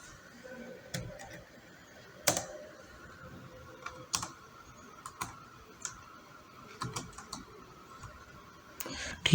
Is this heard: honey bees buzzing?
no